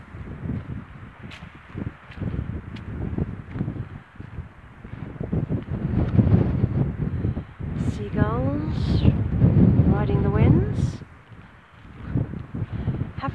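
Strong gusty wind buffets the microphone in rumbling waves on Pule Hill, Marsden Moor, with a voice speaking briefly over it partway through.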